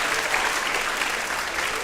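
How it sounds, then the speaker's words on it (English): Steady applause from a middle school band concert audience for Mr. Darrow, a dense, even wash of clapping at close range with no pauses. "You can clap for Mr. Darrow."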